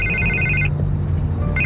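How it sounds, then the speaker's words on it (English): A telephone rings in a Batman video game, two bursts of bright electronic trilling separated by a pause, loud and close over a low steady background hum. "I can't get the phone to stop ringing."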